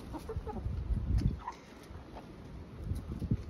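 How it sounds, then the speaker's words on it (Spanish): Laying hens cluck in a henhouse on a small egg farm, several nearby birds giving short, irregular clucks in two bursts separated by a brief lull. "Todas las ponedoras están empezando a poner huevo"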